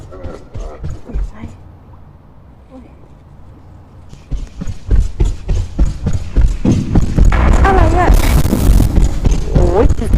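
Rapid running footsteps inside a Roblox mouse-themed map, a quick patter of steps that grows louder and denser midway through, mixed with other game effects and a voice talking over it.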